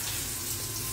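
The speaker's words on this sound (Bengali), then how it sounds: "ফাইনালি আমার হয়ে যাচ্ছে চপ ভাজা।" Rose petal fritters (chop) sizzle in hot oil in a home kitchen, a dense, steady crackling hiss filling the whole moment without pause.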